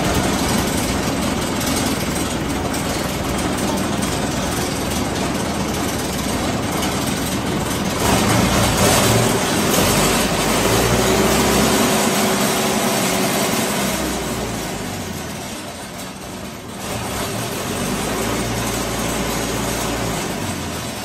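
A heavy concrete pump engine (model 4105) runs continuously and loudly, its rumble dipping briefly toward the end before picking back up.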